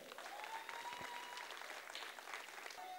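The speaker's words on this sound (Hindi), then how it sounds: "सभी के लिए सबसे पहले एक जोरदार तालियां हो जाए" Loud, steady applause from an audience at a dance competition's elimination round in Arunachal, many hands clapping densely and continuously throughout.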